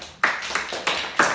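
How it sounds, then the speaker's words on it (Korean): A few people clap briefly in a classroom. Four or five loud, sharp claps come in an uneven rhythm over a short moment. "박수."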